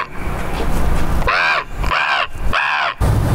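A crow caws three times in a steady, evenly spaced series, loud and close, over a light outdoor background.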